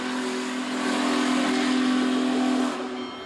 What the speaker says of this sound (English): Soon, 4014 gave the 5-minute whistle.